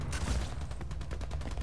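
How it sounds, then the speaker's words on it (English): Distant enemy gunfire in the video game Crackdown 3, a rapid stuttering string of faint shots like a far-off firefight, heard alone. "That looks like enemy gunfire in the distance."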